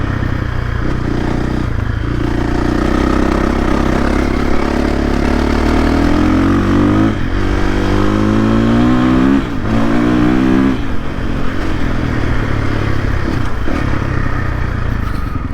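A 2023 KTM 450SXF FE dirt bike fitted with a Vortex ECU is ridden. The engine is loud and close the whole time, and its revs climb and fall repeatedly as if through gear changes.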